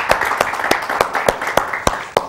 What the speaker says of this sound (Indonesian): Kita beri tepuk tangan dulu Pak